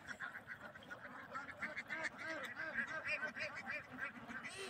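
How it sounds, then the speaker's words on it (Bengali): A flock on a long-running duck farm quacks continuously, with many overlapping calls at a moderate distance, fairly faint and with no speech. "জনাব এনামুল সাহেব আজ প্রায় 20-25 বছর ধরে হাঁস লালন পালন করছেন"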